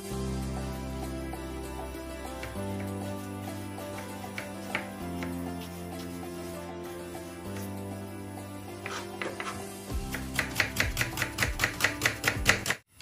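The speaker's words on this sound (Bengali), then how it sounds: "আর এদিকে আমি একটা পেঁয়াজ কাটিলাই আর একটা রসুন" A knife chops an onion and a garlic clove on a board, with sparse cuts at first, then a quick run of loud, close strokes near the end, all under background music.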